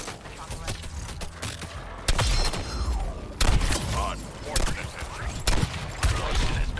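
Heavy gunfire in the video game Suicide Squad: Kill the Justice League, dense rapid bursts and booming shots packed together with explosions and mechanical clatter, loud and continuous in a chaotic fight.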